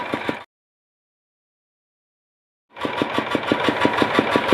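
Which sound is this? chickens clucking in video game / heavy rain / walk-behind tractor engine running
walk-behind tractor engine running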